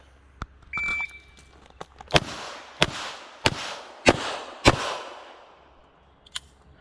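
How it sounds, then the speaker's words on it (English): Five loud, sharp gunshots from a Smith & Wesson UCR revolver fired at a shooting range, spaced roughly half a second to a second apart and each ringing out briefly, preceded by a short electronic timer beep. "And I'm gonna do 5 shots from here."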